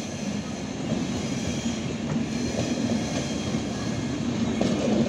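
The Kaifiyat Express, train 12225/26, pulls into Lucknow Junction with a steady, close rumble of rolling wheels and carriages that holds at an even loudness throughout.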